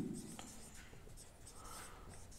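Marker or chalk writing on a board during a physics lecture, heard as quiet, scratchy strokes and squeaks in quick irregular bursts, close and faint, with a brief trace of voice at the start.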